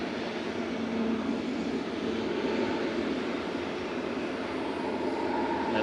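An Embraer RJ145 regional jet lined up on the runway at Manchester Airport gives a quiet, constant engine hum and whine, steady and unbroken.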